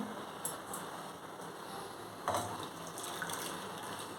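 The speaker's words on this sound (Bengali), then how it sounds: "এবার দুধটা কড়াতে ঢেলে দিচ্ছি" Milk poured into a kadai while making malai kulfi, a soft steady liquid stream with a brief splashy gush midway, fairly quiet and continuous with no talk.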